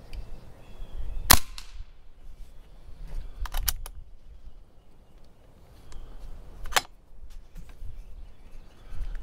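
An AirForce Talon P air rifle fires two sharp, loud cracks several seconds apart outdoors, with faint clicks and handling noises between the shots.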